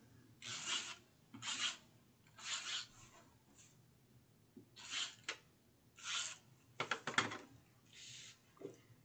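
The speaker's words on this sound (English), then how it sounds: "I'm just going to add some tape." Strips of tape pulled and torn off a roll onto a paper note card, a series of short raspy bursts with brief pauses, close and fairly quiet.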